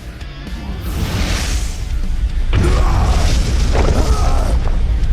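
Fire Blast attack in an animated Pokemon battle, a loud booming explosion with deep rumbling bursts and crashing impacts that roll on continuously, with a voice briefly heard over it.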